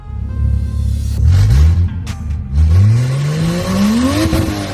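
A turbocharged Lexus IS300 engine cranks, catches and runs, its revs climbing and falling in several rising sweeps, loud and close with a whirring undertone.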